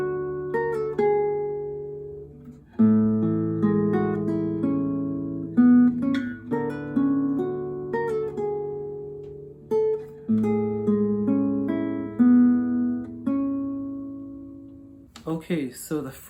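Guitar plucking the main title theme from Legend of Zelda: Ocarina of Time, with clear, close single notes and small chords in a slow, steady melody that rings on its own for several bars.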